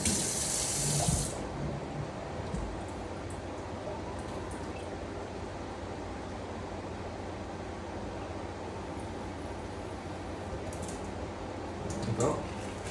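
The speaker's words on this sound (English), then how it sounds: "There is a water tap conveniently located right behind the camera" Water from a tap runs steadily into a T-10 water spray gun being filled, a constant close gush with a louder burst at the start and a brief rise near the end.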